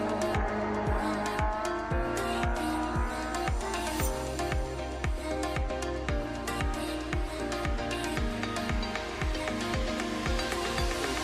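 Drag racing cars launch down the track at a night event, a loud continuous engine roar with repeated sharp tire squeals and downward-sweeping engine notes, busy and close throughout with no talking.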